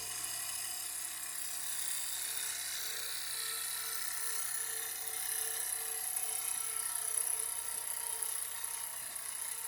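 Jensen 65EL electric live steam engine, a 110V model on ball bearings, running with a continuous high mechanical whir and buzz that stays fairly steady at moderate level, without talk.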